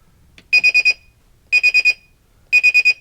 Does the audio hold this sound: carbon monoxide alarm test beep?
yes